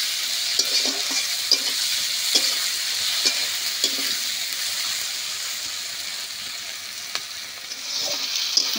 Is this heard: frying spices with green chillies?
yes